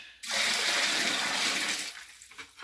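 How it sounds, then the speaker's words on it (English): Water pours and gushes steadily into a gold mining sluice for about two seconds, loud and close, then tapers off into quieter trickles and drips. "Pour some more water in here."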